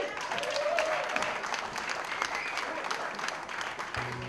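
Concert audience applauding, steady clapping from a crowd that holds at an even level throughout, with a faint voice briefly over it and a low tone creeping in at the end.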